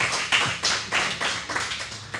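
Brief burst of audience applause at a live comedy podcast taping in a pizza venue, a few seconds of scattered, uneven clapping from a modest crowd.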